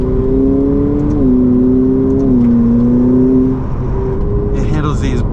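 Ferrari F8 Tributo engine pulling hard on a rough back road, a loud steady drone climbing then dropping with short upshifts, lower revs held near the end, cabin speech heard over it.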